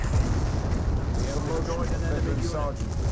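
Rocket artillery barrage from a Calliope launcher in the Company of Heroes strategy game, a dense, continuous rumble of overlapping booms and blasts that stays loud and steady throughout.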